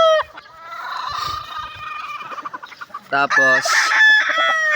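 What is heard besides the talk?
gamefowl roosters crowing and clucking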